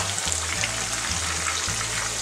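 Chicken pakoda frying in hot oil over a medium flame, a steady dense sizzle with low bubbling pulses as the pieces are slowly turned, close and continuous with no voices.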